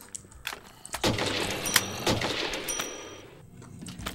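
Gunfire in the video game Zombiecraft, with several sharp, loud shots spaced irregularly over a busy game soundscape as zombies are gunned down.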